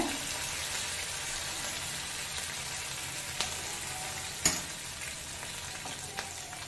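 Green chilli, ginger and curry leaves frying in oil for a curd rice tempering, a soft continuous sizzle with a few faint clicks and one sharper knock of a utensil, no voices.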